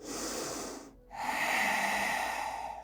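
A deep breath during a yoga session, with an audible airy inhale, a brief pause, then a longer, fuller breath drawn close to the microphone.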